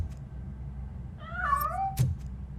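In the video game RoboCop: Rogue City, a cat lets out one clear, drawn-out meow with a rising then falling pitch, close and distinct over a low ambient game hum, followed by a brief sharp click.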